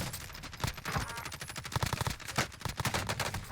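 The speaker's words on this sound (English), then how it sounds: "their teammates absolutely firing bullets" Rapid bursts of enemy gunfire in Call of Duty: Warzone, sharp repeated shots crackling close and loud with a dense automatic rhythm across a field scattered with hay bales.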